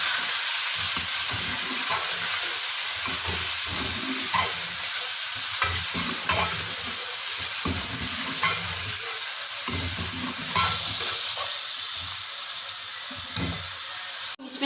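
Ginger-garlic paste with salt, dry coriander powder and red chilli powder fries for a chicken korma, stirred hard with a spoon, giving a loud close sizzle and repeated scraping strokes that continue throughout without any voice.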